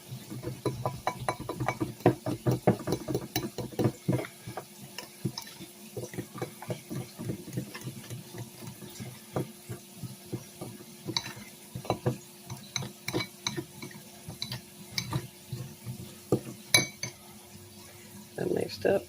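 Flour and dry ingredients are whisked together in a bowl, making a quick, rhythmic series of scraping clinks that run throughout while a person talks.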